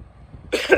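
A single short cough, close and moderately loud, after a moment of quiet background.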